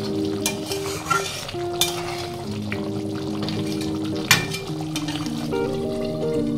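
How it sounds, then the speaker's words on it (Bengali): Bhangar fish curry is stirred in a pan after coriander and garam masala go in, giving a steady scraping of utensil against metal with a light sizzle and occasional clinks, no talking. "ভালোভাবে মিশিয়ে দিচ্ছি।"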